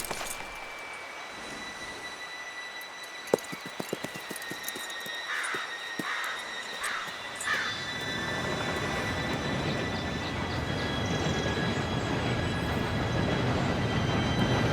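A train approaching in the video game Red Dead Redemption, starting with faint clanks and a distant whistle, then swelling into a loud, steady roar of rolling wheels and rumble.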